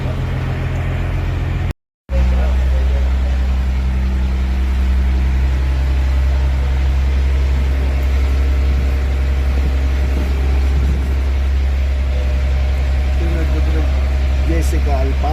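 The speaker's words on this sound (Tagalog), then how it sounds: "Ang ingay sa makina." A boat engine on a trip approaching Boracay drones loud and steady, with a deep continuous rumble that fills the whole stretch after a brief cutout near the start. People talk over it.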